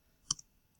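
A single light click, like one tap on a computer keyboard while typing a web address into a browser, close and faint in an otherwise quiet room.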